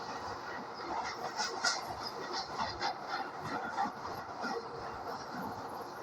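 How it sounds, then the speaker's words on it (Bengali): A passenger train running on rails, heard from inside with a steady rumbling roll and faint rhythmic clatter of the wheels, moderately quiet and without talk. "এই কালু, আমাদের ট্রেনটা কোন রাস্তা দিয়ে যাবে রে?"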